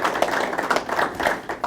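Scattered applause from a small audience at a BC Football Hall of Fame induction press conference: dense, close hand claps rolling on evenly for under two seconds with no speech over them.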